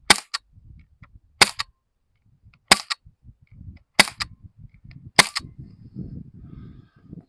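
An Umarex Canex CO2 air rifle shooting hollow point pellets, five sharp, loud cracks spaced roughly a second apart, with faint low shuffling and handling noise between shots and growing toward the end.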